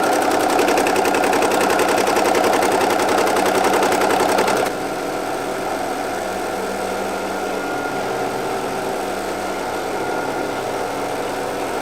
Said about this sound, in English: So now we'll load up the design, throw it on the machine, and let's watch it stitch out.